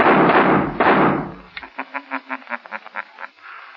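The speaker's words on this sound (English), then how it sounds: "my witnesses heard Paul Bartow threaten to shoot his uncle, and they heard the shots" A loud burst of noise is followed by a rapid series of about a dozen sharp, evenly spaced bangs, like gunshots from a recording.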